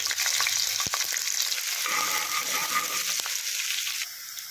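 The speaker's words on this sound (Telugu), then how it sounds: "వేడైన తర్వాత ఇందులో మనం పచ్చిమిర్చి ఆనియన్స్ వేసుకోవాలి." Sliced green chillies and onions frying in hot oil in a pot, with a loud, steady sizzle and crackle, occasional stirring clinks, and a slight drop in level near the end.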